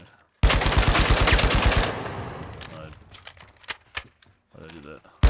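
Gunshots in a first-person shooter video game: a loud, close burst of rapid automatic fire lasting over a second, then decaying into scattered clicks and softer shots.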